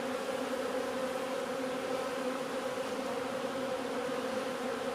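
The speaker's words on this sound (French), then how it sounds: "Une nuée d'abeilles," A dense, steady drone of many honeybees buzzing together, continuous and close, with no pauses throughout; a broodless test colony kept in a cellar.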